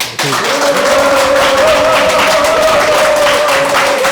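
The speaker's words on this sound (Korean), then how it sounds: "이런 우리 최건 후보의 이 각오에 대해서 격려의 박수부터 좀 한번" Steady, loud applause from an audience at a political talk event in Ulsan, a dense wash of clapping that starts abruptly and holds evenly for several seconds, with a faint sustained tone running underneath.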